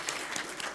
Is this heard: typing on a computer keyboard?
no